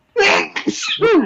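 A single loud, close sneeze with a sharp intake and burst, ending in a short vocal tail, on a podcast recording.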